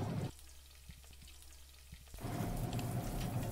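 Chopped onions sizzling in hot oil in a pan for sole fish curry: a quiet simmer first, then the fry grows into a loud, dense crackle when the big onions are added.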